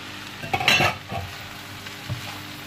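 Boiled pasta is stirred and sautéed with seafood in a pan: scraping, clattering stirs over a frying sizzle, busiest in one early burst, then quieter strokes.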